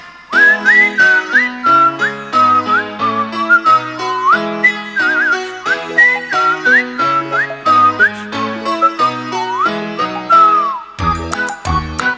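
A clear whistled melody glides over a bright, plucked piano-like accompaniment, steady and close, ending with a few sharp percussive hits.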